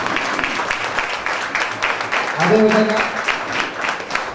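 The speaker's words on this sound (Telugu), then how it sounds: "అందరూ కూడా నుంచుని ఒకసారి గట్టిగా ఆవిడకి చప్పట్లు కొట్టి అభినందించవలసిందిగా కోరుతున్నాం." A standing audience at an education award function applauds an honoree with continuous clapping, and someone speaks briefly over it.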